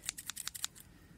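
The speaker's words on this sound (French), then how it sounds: "On va couper les plumes. Je vais chercher les ciseaux." Scissors trim a chicken's wing feathers with about seven quick, crisp snips in a rapid, uneven rhythm. The sound is close but quiet, with no talk.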